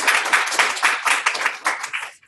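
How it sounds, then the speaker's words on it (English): Brief round of applause from a workshop audience, a dense patter of many hands clapping close by, swelling in waves before stopping abruptly. "I want to give a round of applause to Dr. Wynn"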